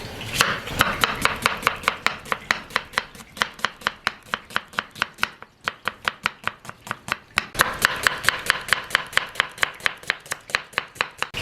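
A large onion is chopped finely with a knife on a board, a fast steady run of sharp, close knife taps that pauses briefly midway and then resumes at the same quick rhythm.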